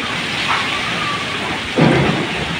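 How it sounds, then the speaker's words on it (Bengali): A thunderstorm with strong wind and rain, heard as a dense, steady roar of rainfall and gusts with a louder surge of rumble near the end. "এই যে ঝড় তুফান শুরু হইতেছে, প্রচুর বাতাস ছাড়ছে"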